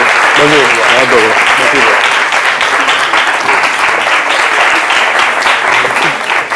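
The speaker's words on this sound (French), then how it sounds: "un standing ovation offert par tous ces jeunes, justement à vous" Standing ovation for a minister from a crowd of young people, dense sustained applause filling the room, loud and close, with voices calling out beneath the clapping.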